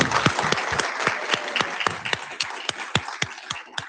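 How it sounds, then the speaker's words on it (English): A room audience applauds a panel at a gravitational wave event, with distinct, fairly sparse individual claps close by that keep going steadily for a few seconds. "Let's give this panel a round of applause."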